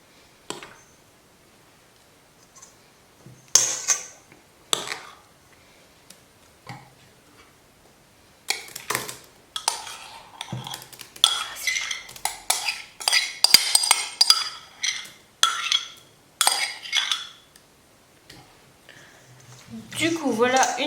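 Ingredients being mixed in a bowl: spinach stirred into a liquid quiche filling with salmon and goat cheese, giving scattered light clinks and scraping taps, sparse at first then busier, close and moderately loud, with someone speaking between.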